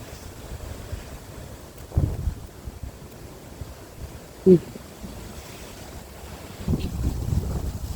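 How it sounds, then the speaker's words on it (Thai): Strong wind buffets a microphone outdoors in a forest, producing low rumbling gusts that swell and fade, with a brief thump midway and louder blustering toward the end, no talking. "ลมแรงแรงพี่น้อง"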